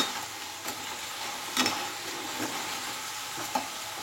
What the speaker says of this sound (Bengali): এইবারে কন্টিনিউ জিনিসটাকে নেড়ে কিন্তু ফ্রাই করতে হবে।